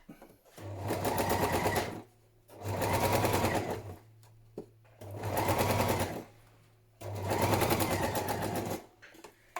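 A sewing machine stitches a thick padded patchwork journal cover in four steady runs of rapid needle hammering, each a couple of seconds long, separated by short pauses with small clicks as the fabric is turned.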